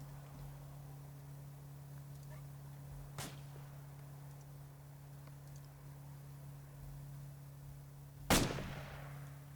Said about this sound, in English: I have no idea where they're firing at, if they're shooting up on the hills or what